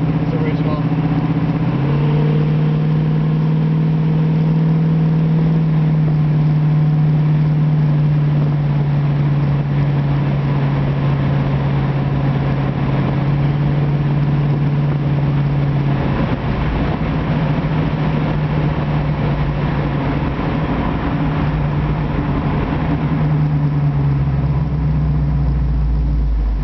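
A 1966 Ford Mustang convertible with original parts idles with a steady low engine hum, rising briefly as the gas is pressed, loud and close throughout the whole stretch.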